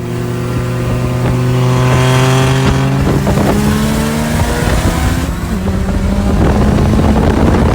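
A Mitsubishi Evo drives by close and loud, its engine note shifting and rising through several gear changes in a steady, strained drone.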